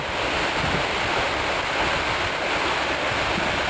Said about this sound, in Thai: การจ่ายลมเป็นไปตามที่เราต้องการ สามารถจ่ายลมเติม อากาศ ให้กับบ่อบรรบัด ได้